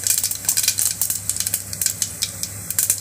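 Fennel seeds crackle and sizzle in hot sesame oil inside a pressure cooker, with quick spitting pops over a steady frying hiss, close and fairly loud, with no talk.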